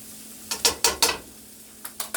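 Ingredients for a chicken dish, likely chicken lo mein, are stirred in a pan, giving a series of sharp scraping clacks in two bursts over a soft steady sizzle.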